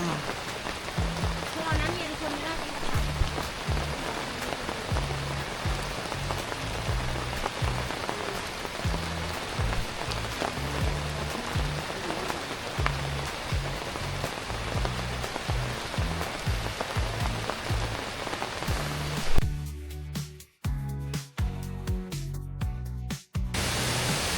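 Steady rain pours down at the Khlong Lan waterfall campsite in Kamphaeng Phet, a dense continuous patter with low drumming on a surface, cutting off abruptly near the end into a few sharp knocks.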